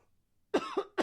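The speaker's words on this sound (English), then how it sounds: "I had a bit of a cough there." A man's coughs in a quiet indoor setting: one harsh cough followed by two shorter ones in quick succession, close and clear after a brief silence.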